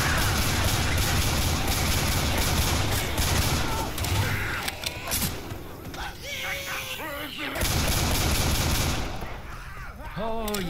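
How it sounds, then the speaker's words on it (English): Dense automatic gunfire in Left 4 Dead 2 rattles nonstop and close, easing off midway and then returning in full bursts, while players talk over the shooting. "We're gonna keep shooting."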